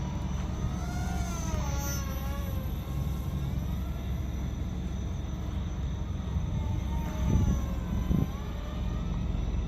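A steady, distant jet-like whine from an SG F22 Raptor four-channel RC park-flyer plane flying at night, with a smooth drone that rises and falls slightly as it passes.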